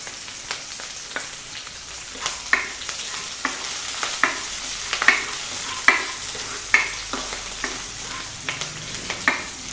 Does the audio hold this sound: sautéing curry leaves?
yes